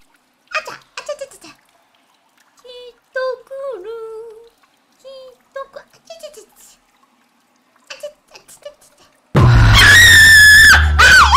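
A female streamer gives a sudden, piercing, wavering scream of fright at a scary moment in the horror game Jigoku Sento, set in a bathhouse. It bursts in loud after scattered quiet speech and gasps.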